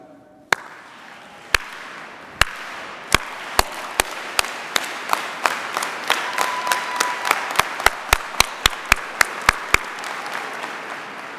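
Commencement audience at a university graduation ceremony clapping in unison, starting as sparse single claps and building into a steady rhythmic beat of sharp, loud synchronized claps over a background of scattered applause.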